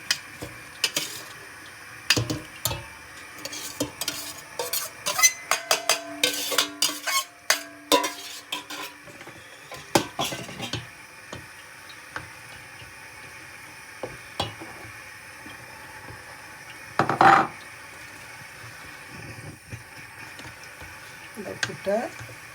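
Puttu poured into milk with cooked onions in a pot and stirred, giving scraping spoon clatters and knocks against the metal pot in bursts, with a louder clang later and quiet stretches between.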